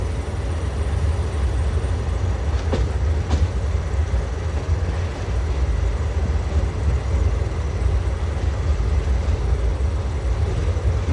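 The Chattogram Mail train rolls into Brahmanbaria railway station at night, heard from on board as a loud, steady rumble of wheels and carriages, with no one talking.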